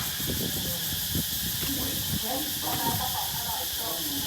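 Garlic sizzling steadily in a hot pan, a continuous hiss running throughout while someone talks over it.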